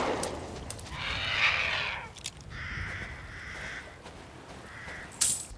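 Several loud, harsh crow caws ring out in Resident Evil Village played in VR on PSVR 2, coming in separate bursts with brief gaps between them.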